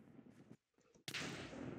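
A sniper rifle shot in the Survival Games video game: a sudden sharp crack bursts in after a brief hush and rings out loudly, preceded by faint scuffling game sounds.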